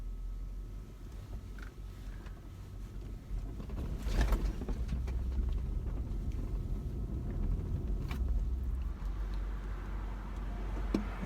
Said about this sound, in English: I think you can hear the vehicle. Sounds really nice. Thick, strong V8 grumble.